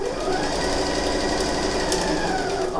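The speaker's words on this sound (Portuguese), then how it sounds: "A ideia aqui é alfinetar toda a volta e fazer essa costura com um pezinho de máquina." A sewing machine runs steadily while stitching around the mitred corner of a floor towel, a close, loud, continuous whirring hum with rapid needle chatter and no pauses.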